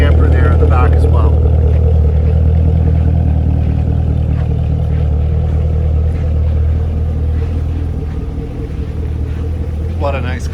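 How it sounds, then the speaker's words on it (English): Black 2015 Chevrolet Camaro ZL1 with 580 hp V8 and NPP exhaust, idling with a deep, steady, loud rumble that continues throughout. "Nice rumble to it, and it's got the NPP damper there in the back as well."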